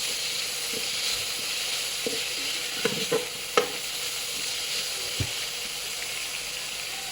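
Tomato and masala being stirred in a pot for chicken biryani: steady low sizzle with a few scattered scraping knocks from the stirring, fairly close, no voices.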